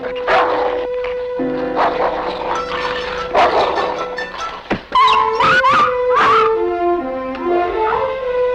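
A dog yelps and whimpers after being kicked, with sharp high cries over a tense 1961 crime-drama scene with a steady background tone; the yelps grow denser toward the end.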